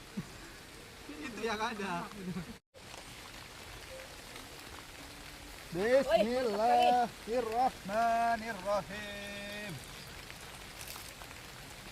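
Rain falls steadily at a riverside campsite during a meal of fish and eggplant, making a soft, constant patter in the background while someone speaks and prays over it.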